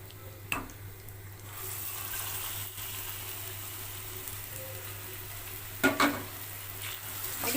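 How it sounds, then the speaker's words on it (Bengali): Lentil paste fries in a pan, a steady low sizzle with a few sharp scrapes and knocks of stirring, one near the start and a louder cluster toward the end. "এবারে আমি এর মধ্যে দিয়ে দিচ্ছি ডাল বাটাটা"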